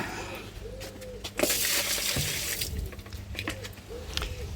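A water tap beside a koi pond runs in a steady splashing rush close by, with faint birdsong in the background and no talk.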